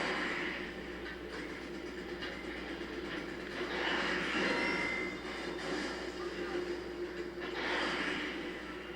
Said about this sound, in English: They got a helicopter here. Oh, yeah, he's taking off too.